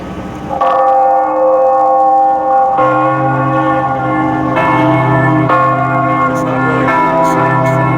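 Church bells ring loudly and close by, with overlapping resonant strikes whose tones layer and sustain, and new peals come in every few seconds. No voices are heard.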